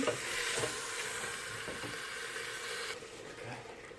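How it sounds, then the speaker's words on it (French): Chorba frik sauce simmers in a pot on the stove while being stirred, making a soft continuous bubbling sizzle with faint utensil scrapes. The sound is close and fairly quiet, and no voices are heard. "Voilà, on mélange bien. Et je mijote le tout environ 5 minutes."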